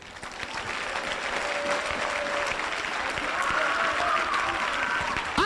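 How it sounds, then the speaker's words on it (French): A church congregation applauding to acclaim Jesus, sustained clapping from a crowd that rises quickly and holds steady, with a few voices calling out above it. "Acclamez Jésus."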